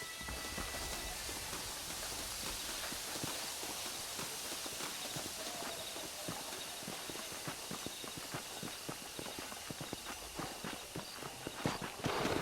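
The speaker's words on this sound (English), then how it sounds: "Come on, horses are over here." Horse hooves clip-clop at a steady walking pace in the Red Dead Redemption video game, under a hiss of rain-like ambience, moderately faint, with no talking.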